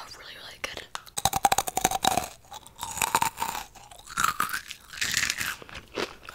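Crunchy Japanese snacks chewed close to the mic, a run of sharp, rapid crunches and bites with softer chewing between, accompanied by quiet whispered talk.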